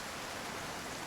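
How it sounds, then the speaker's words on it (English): Steady hiss of rain in the video game Project Zomboid, a constant even wash of noise with no other sounds or talk. "It's still raining."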